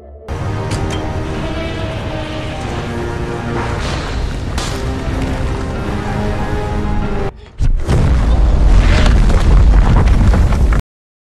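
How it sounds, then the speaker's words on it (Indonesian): A loud, sustained explosive roar of a reactor explosion with crackling bursts and deep rumbling, briefly cutting out before a second, heavier blast surges and then stops abruptly. "hingga ledakan terjadi"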